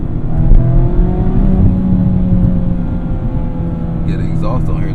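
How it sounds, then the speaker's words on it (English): Mazda Miata ND with an aftermarket Goodwin exhaust, engine droning and revving steadily close by throughout, with a brief higher tonal squeal near the end. "This Goodwin does a little bit of burbling too, which adds a lot of character to the vehicle"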